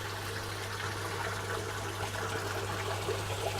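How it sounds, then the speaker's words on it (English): Water pours steadily from a fish tank return pipe into an aquaponics sump, a constant, even trickle and splash that stays soft and unbroken throughout. "You can see some of the water returning out of the fish tank. That's that one that's constantly flowing there."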